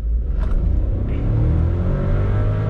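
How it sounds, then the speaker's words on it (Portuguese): A VW Polo 200 TSI Highline engine drones low and steady as the car slows under engine braking on a road, the pitch gradually falling, heard from inside the car. "ele dá um belo freio motor"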